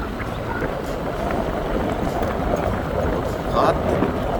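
Strong wind buffets a boat travelling across the Iranamadu reservoir. A continuous, rough, close roar of wind noise swells near the end, with voices faintly under it.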